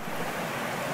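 A small stream cascades beside a forest path in the Ardennes, giving a steady, dense rush of water that fills the moment without any voices.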